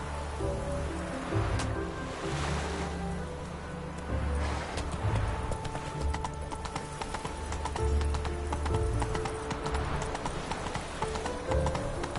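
In The Witcher 3, a horse gallops in a fast, continuous drum of hoofbeats over a steady wash of water-like ambience, loud throughout.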